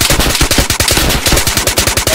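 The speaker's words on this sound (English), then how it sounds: "Are they shooting at you?" Rapid automatic gunfire in the video game DayZ, a dense string of loud, close shots firing in a steady fast rhythm for the whole stretch with no talk.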